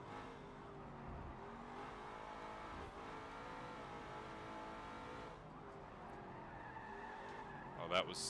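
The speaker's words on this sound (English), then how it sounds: "That was an unfortunate drift." A car drifts and skids in a Forza racing video game, with a continuous engine drone, wavering tire squeal and revving, and people talking over the game sounds.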